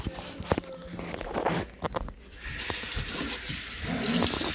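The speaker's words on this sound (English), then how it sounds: "So I'm going to fill this up just so it's" Water runs from a tap into a glass jar being filled for canning deer meat, a steady splashing flow in the second half, preceded by clinks and footsteps nearby.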